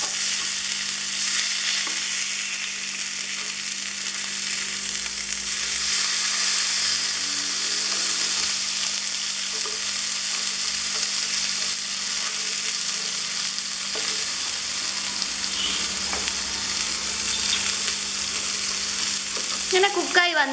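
Tilapia fish frying in a pan, a steady loud sizzle and hiss of hot oil that runs unbroken throughout, with faint stirring or turning noises near the end.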